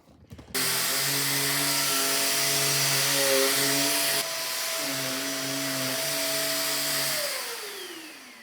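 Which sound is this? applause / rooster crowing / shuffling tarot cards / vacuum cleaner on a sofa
vacuum cleaner on a sofa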